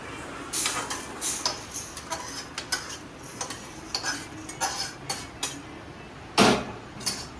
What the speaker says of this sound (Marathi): हे बघा ह्या प्रकारे तांदूळ भाजून घ्यायचे